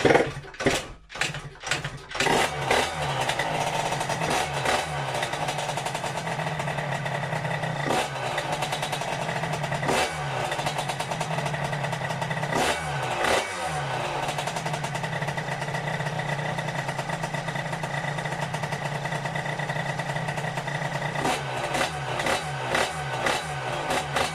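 A Stage6 Big Racing 88cc scooter engine starts with a few sputtering bursts, then settles into a steady, buzzing idle that holds close and fairly loud, with brief revs and no talking.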